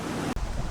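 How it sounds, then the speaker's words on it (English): Steady, heavy wind roar with low buffeting rumble, broken by a brief dropout, then continuing strong and close to the microphone. "It's super windy out."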